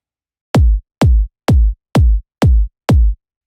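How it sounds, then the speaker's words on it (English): Six punchy trance-style electronic kick drum hits spaced evenly, each a deep booming thump with a sharp click on top, isolated against silence. "So almost the trance kick."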